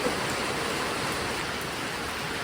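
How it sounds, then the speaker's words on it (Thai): Continuous rain pours down in a steady, broad hiss, with no talking. "มันยังออกบ่ได้เพราะฝนมันยังตกกา"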